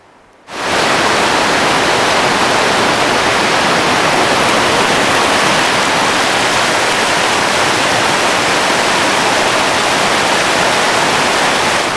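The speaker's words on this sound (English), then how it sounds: "as you can see, the beautiful waterfalls behind me." Steady, loud roar of a waterfall in the New Zealand bush near Moss Creek, a dense wash of falling water that surges in after a brief quiet start and holds unbroken to the end.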